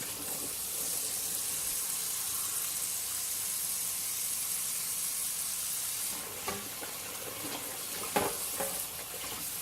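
Hot water runs from a faucet into a bowl holding a mat being washed, a steady broadband rush throughout with a few splashy knocks near the end.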